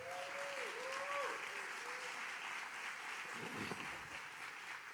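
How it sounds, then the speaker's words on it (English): Audience applause at a Super Bowl schedule announcement event with NFL officials, a steady, even wash of many hands clapping in a large room, moderately faint and continuous. "Everybody give them a round of applause."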